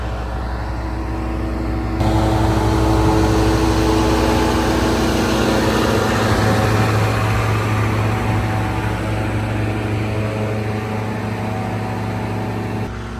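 An emergency generator runs at a high school during a simulated power outage, a steady loud mechanical drone with a low hum and fan rush from air thrown out over the radiator, continuous throughout.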